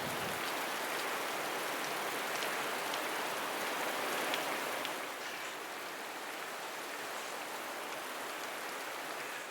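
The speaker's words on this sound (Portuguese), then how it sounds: "Apesar da chuva e do vento" Steady heavy rain and wind pouring down with a constant rushing hiss, easing slightly partway through, at the Dolphin Bay lookout in Fernando de Noronha Marine National Park, Brazil.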